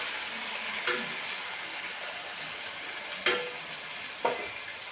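Ginger garlic paste fries in hot oil in a pan, a steady soft sizzle with three brief clicks of stirring spaced a second or two apart, no voices.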